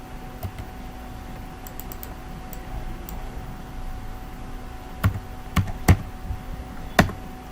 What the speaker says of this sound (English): all I need to do is to come back here into this and type in the value of 498